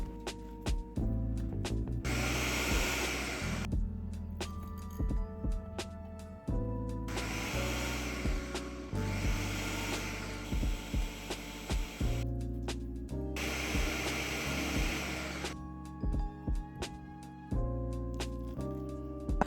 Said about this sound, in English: I blend until smooth without the beets at first, scraping down the sides